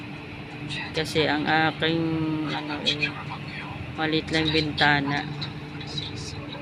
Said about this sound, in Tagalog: Kami po ay may exhaust pero ginawa kong pan.